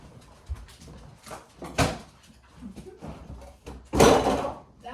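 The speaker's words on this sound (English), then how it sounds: "I'm over here slamming doors" Kitchen doors and cabinets slam shut several times, sharp thuds at irregular intervals with the last bang loudest, amid quiet room noise.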